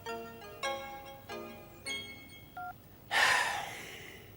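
A phone gives a series of separate electronic tones, like keypad beeps or a short ringtone for an incoming call, followed by a louder breathy rush of noise near the end.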